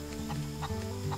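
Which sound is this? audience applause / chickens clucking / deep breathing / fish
chickens clucking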